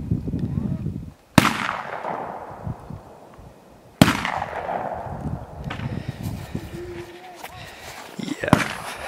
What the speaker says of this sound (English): just hearing the guns crack over there is kind of making me nervous